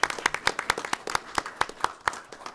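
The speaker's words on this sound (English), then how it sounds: "So let's give her a round of applause." Scattered applause from a small board meeting audience honoring an employee, a couple of dozen distinct, fairly sparse claps spread unevenly over a few seconds, close and moderately loud.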